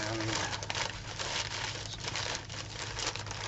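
Model train hoppers being unwrapped from newspaper: a loud, continuous crinkling and rustling of paper close to the microphone, with no gaps for the whole stretch.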